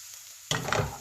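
Beef patty filling cooks in a pan, a soft background hiss giving way halfway through to a louder burst of sizzling and stirring noise.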